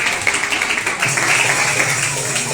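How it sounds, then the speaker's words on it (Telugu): An audience at a Vacation Bible School gathering applauds a family with steady, dense clapping that fills the space at close range, with no pause. "దావీద్ సైడమ్మ వాళ్ళ కుటుంబంకి క్లాప్స్ కొట్టండి"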